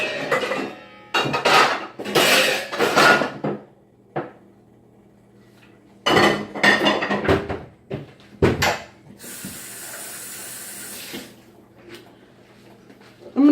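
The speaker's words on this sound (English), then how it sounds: "So I'm going to get a bigger saucepan in this" Cookware clatters in a home kitchen as a large saucepan is pulled from a cupboard, with several loud clanks and knocks of pans and doors in irregular bursts and a brief hiss-like rustle partway through.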